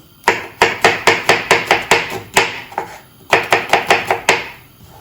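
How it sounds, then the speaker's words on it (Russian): An onion being chopped with a knife on a board: a rapid, even run of sharp close knocks, a short pause, then another quick burst of chops, loud and with no talk. "Нашинкуем лучок, друзья. Первым делом лук."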